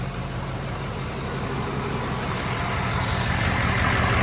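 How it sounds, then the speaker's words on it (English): A JH Diesel monster truck engine roars in a dense, loud, close rumble that swells slightly over a few seconds. "hop in here and why don't you rev it up"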